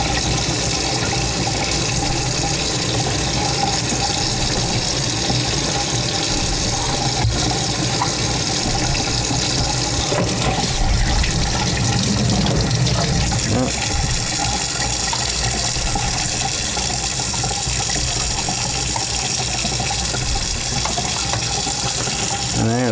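Water pours steadily from a kitchen tap into a sink while aquarium parts are rinsed, a loud continuous rush with some shifting splashes and handling noises throughout.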